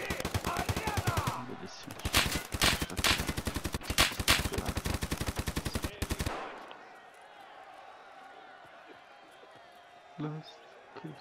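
Rapid automatic gunfire in the Escape from Tarkov Arena video game: a loud, fast, continuous burst of shots lasting several seconds with brief gaps, then cutting off into quiet ambience with a faint distant thud, with talking nearby.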